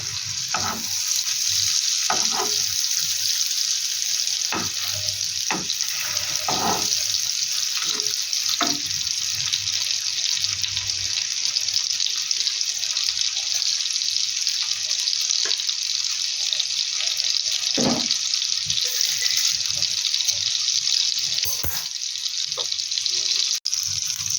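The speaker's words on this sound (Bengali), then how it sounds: "আমি বাটার আর তেল দুটো অ্যাড করে এটা ফ্রাই করছি।" Kebabs frying on a low flame in a mix of butter and white oil, a continuous close sizzle with scattered spatula taps and turns across the whole stretch, no talking.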